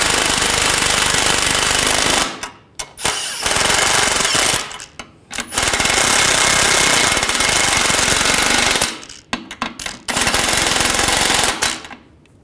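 An impact wrench tightens the ball joint nuts on a 2009-2017 Volkswagen Tiguan during front lower ball joint replacement. It gives loud, close hammering bursts in several runs with short pauses between them.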